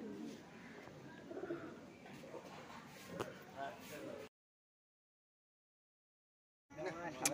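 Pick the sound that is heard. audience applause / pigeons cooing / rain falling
pigeons cooing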